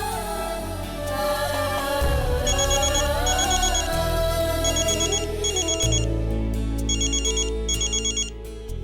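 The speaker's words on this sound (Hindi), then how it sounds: "मिसेस दीक्षित का फोन आ रहा है" A phone ringtone plays loudly in a repeating melodic pattern over low synth tones, with bright chiming pulses recurring in pairs.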